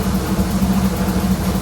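A 1984 Nissan 300ZX engine idles fresh after an oil change and still smokes slightly, a loud, steady low rumble with an even pulsing beat, close up and without any talking.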